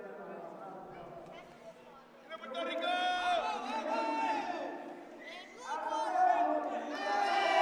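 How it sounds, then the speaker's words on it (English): A crowd at a ringside fight night event cheers and shouts for both corners after a bout, with voices rising and overlapping in waves and individual yells and chatter standing out close by. "Both sides cheering for their people."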